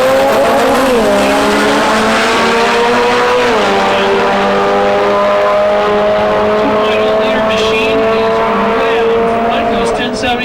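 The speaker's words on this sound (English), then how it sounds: "we have Scott in his 1996 Talon, and he is racing Sean in a Turbo Civic" A 1996 Talon and a turbocharged Civic drag racing, with loud, high-revving engines climbing and shifting under steady crowd and track noise, and an announcer talking over the roar.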